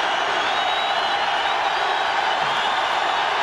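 Steady, dense roar of a stadium crowd at a 1992 college football game between California and Kansas, a continuous broadband wash of voices with no clear peaks, heard from within the stands.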